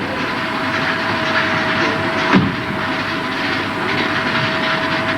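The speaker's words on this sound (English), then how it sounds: "Train now arriving at platform 3 is the 15:30 from Liverpool Lime Street." A train at a station platform produces a steady, loud rumble and hiss with a sustained whining tone, broken by a single brief thump partway through.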